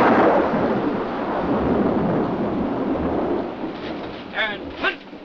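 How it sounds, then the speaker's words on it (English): Rumbling thunder rolls through a storm as a loud, sustained broadband roar, fading slightly toward the end, where a few brief voice-like sounds break in. "I've always been scared of lightning."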